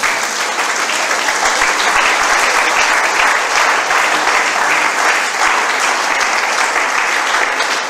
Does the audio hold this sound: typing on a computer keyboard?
no